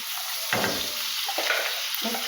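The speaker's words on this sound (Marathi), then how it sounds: "तेल गरम झालेलं आहे. आता आपण टाकू पेस्ट" Spice paste for butter chicken drops into hot oil in a pan and crackles into a steady close sizzle, with stirring scrapes and fresh bursts of frying as it is moved about.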